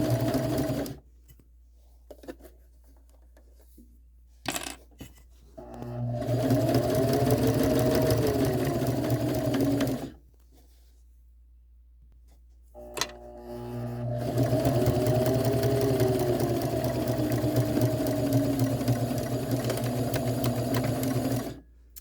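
A sewing machine stitches a quilt sashing seam in two long runs of steady, rapid whirring, with brief pauses and a few clicks between them.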